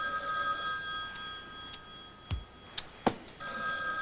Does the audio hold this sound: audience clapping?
no